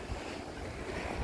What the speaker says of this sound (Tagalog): Mahampas ang tubig.